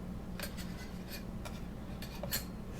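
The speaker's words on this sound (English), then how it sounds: "It's much harder to cut the slices with the longer blade." Long blade slicing through a polymer clay cane, a few soft, faint scraping cuts spaced apart over a low steady background hum.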